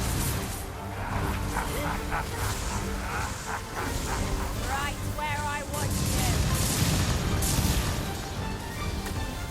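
A dog barks repeatedly in the video game Dragon's Dogma 2, sharp yips and barks mixed with combat crashes and clatter, while a player talks over the action.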